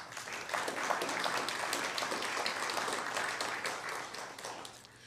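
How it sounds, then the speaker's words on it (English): At a business award ceremony, a crowd claps steadily for the winner of the 2022 Pinnacle award, a dense, even round of applause that tapers off near the end. "Another round of applause for GROW."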